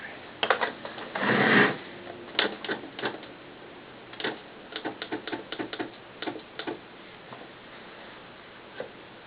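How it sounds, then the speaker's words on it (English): A sewing machine stitching across a doll pants waistband: a longer burst of running needle chatter, then short irregular runs and stops, close and fairly quiet. "I'm just going to sew that waistband across just like that"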